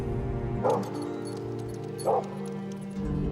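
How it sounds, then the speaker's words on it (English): A dog on a wooded acreage in central British Columbia gives two short, high yips about a second and a half apart, layered over a steady low humming drone. "Oh, the dog looks friendly."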